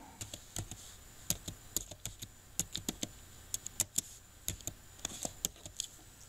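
Someone types a search on a computer keyboard, a run of quick, light key clicks in an irregular rhythm, close up and fairly quiet, with no talking.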